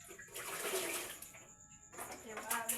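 Rainwater runoff from a roof spatters and trickles steadily as it pours down, a continuous splashing wash with a brief lull partway through.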